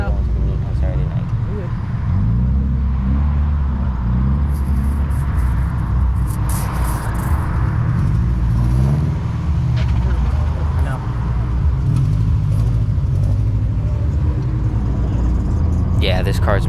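A wide-body car drives off toward a Saturday night car meet, its engine a steady mid-pitched drone with road noise throughout, while people talk over it.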